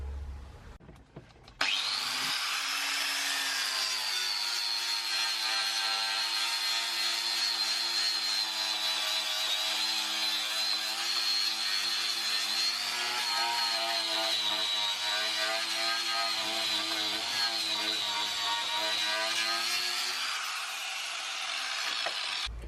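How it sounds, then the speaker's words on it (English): An angle grinder fitted with a sanding pad strips paint and seam sealer from the bodywork of a BMW E46 323ci drift build, giving a loud, continuous high whine with a gritty abrasive edge that runs steadily for about twenty seconds, then spins down. "So I got this sanding pad for the grinder."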